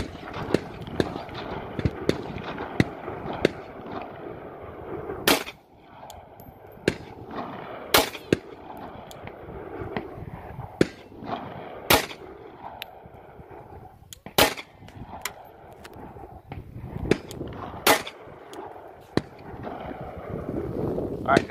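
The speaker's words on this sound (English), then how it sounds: "I took 5 shots" Gunshots fire one at a time at a target outdoors, sharp loud cracks spaced a few seconds apart over wind noise and someone talking.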